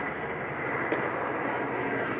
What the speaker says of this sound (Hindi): और ये रहा चिनूक हेलीकॉप्टर।